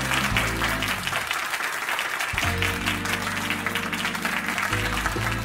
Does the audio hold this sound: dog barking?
no